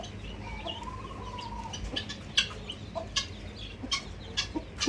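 A hen pecks at feed and drinks water, giving soft, scattered clucks and short calls at close range against a steady low background hum, with no talk.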